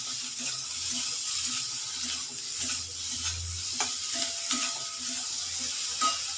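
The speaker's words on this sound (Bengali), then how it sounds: "হলুদের গুঁড়ো দিয়ে ভালো করে নাড়িয়ে দেবো" Drumstick (moringa) flowers are stirred with turmeric powder in a pan, giving a steady, fairly close sizzle and hiss broken by occasional soft scrapes and knocks from the stirring.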